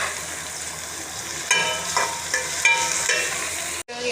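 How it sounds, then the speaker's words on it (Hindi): A spice masala of ginger-garlic paste, tomato and green chili fries in ghee in a pan, with a continuous sizzle and intermittent scraping and stirring strokes. A brief clatter comes near the end, with no speech. "यहाँ पर हमने अपने मसाले को अच्छे से भून लिया"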